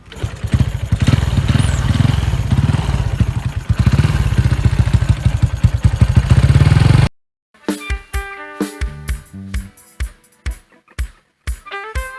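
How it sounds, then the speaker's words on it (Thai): A Honda Wave 110i motorcycle with a modified 57 mm, 3 mm-stroke engine and CBR 150 cylinder, kick-start only, runs loud and uneven with rapid revving pulses, then cuts to silence before a string of sharp clattering kick-start and restart bursts. "นี่ไม่มีสตาร์ทมือนะผม ต้องสตาร์ทตีนนะ"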